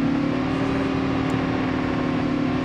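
A motorbike engine in Call of Duty Mobile hums with a steady, loud mid-pitched drone and slight revving, constant and close for the whole stretch with no talk over it.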